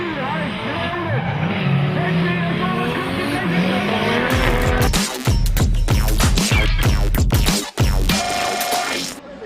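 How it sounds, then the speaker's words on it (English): Drift cars battling through turn one at a pro drifting competition, with roaring engines and long, loud tire squeals as a car spins out, under continuous commentary. "this move on Damien Mulvey through turn 1 results in a spin and his elimination from the top 8"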